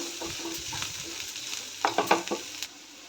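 Food fries in a small amount of refined white oil in a home kitchen, a soft sizzle broken by brisk stirring and a run of louder spatula scrapes and clatters near the end, with no talking.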